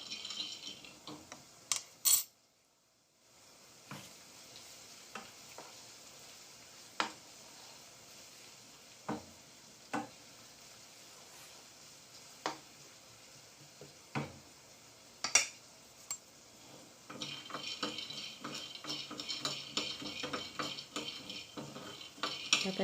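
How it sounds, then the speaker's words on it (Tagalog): Peanuts dry-fried in a pan without oil give a soft sizzle and scattered sharp clinks and scrapes of a utensil stirring against the pan, with a brief silent gap early on and busier stirring toward the end. "Kailangan pag i-fry natin walang walang oil."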